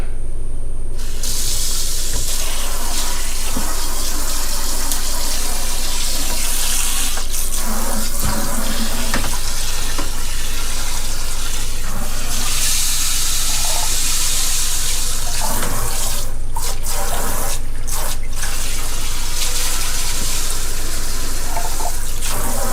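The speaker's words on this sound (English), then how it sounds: "So what I'm going to do now is just add some more water to this." Water runs loudly and continuously over eggplant seeds held on a screen, a steady splashing stream lasting throughout with brief shifts in tone.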